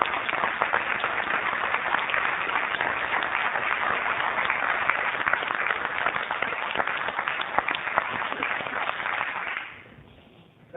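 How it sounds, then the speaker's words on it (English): A city council chamber audience stands and applauds students, sustained dense clapping for about nine seconds before fading out to near silence. "we will stand and give you a good hand clap."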